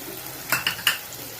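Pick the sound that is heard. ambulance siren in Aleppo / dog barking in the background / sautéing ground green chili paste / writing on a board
sautéing ground green chili paste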